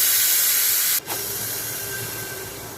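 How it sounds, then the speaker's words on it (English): Steam pressure is vented from a pressure cooker full of soaked masoor and moong dal: a loud, steady hiss that cuts briefly near the start and then resumes, continuing evenly to the end. "I am releasing the excess pressure"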